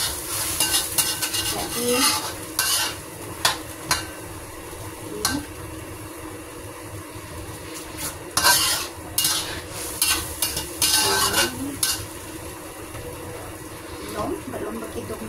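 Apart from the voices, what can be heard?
chicken in oyster sauce being stirred and fried in a pan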